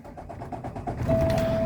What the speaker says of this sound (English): I step on the brake, and now I can start the engine.